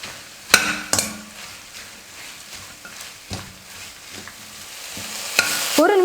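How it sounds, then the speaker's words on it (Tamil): Steady sizzling of herbs sautéing in a hot pan for vegetable biryani, with occasional sharp clinks of a spoon or spatula stirring against the metal. "இப்போ இது எல்லாத்தையும் சேர்த்து ஒரு நிமிஷத்துக்கு நல்லா வதக்குனா போதும்."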